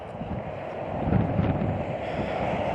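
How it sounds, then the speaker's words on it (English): Cold, gusty wind buffets the microphone beside an Interstate 26 bridge in Kingsport, Tennessee, a broad rushing roar that swells louder partway through and keeps blowing without letup. "It's windy, it's cold."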